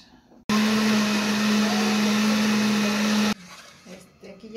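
A kitchen blender grinds cloves and a small piece of onion, switching on abruptly into a loud, steady whirring drone that holds for about three seconds, then cuts off to quiet room noise.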